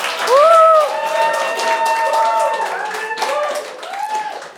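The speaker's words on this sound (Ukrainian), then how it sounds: "Треба аплодувати мені зараз." Light clapping from a stand-up comedy audience, rising under voices and laughter that carry through most of the stretch.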